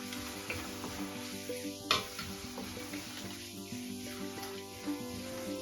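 Turmeric and fresh home-grown curry leaves sizzle steadily in hot oil for batata poha, a soft crackling fry with occasional light taps of a utensil against the pan.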